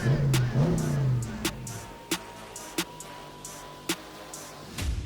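A Dodge Hellcat Jailbreak engine rumbles from inside the car while driving, rising in a brief rev at the start, then settling to a steady low drone with a few sharp clicks and knocks over it.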